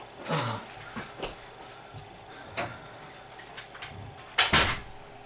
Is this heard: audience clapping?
no